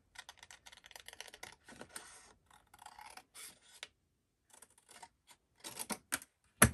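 Close, dry snipping and rasping of scissors cutting a paper tab for a craft album, a rapid run of small cuts, then scattered snips and a louder final crunch, with no talking.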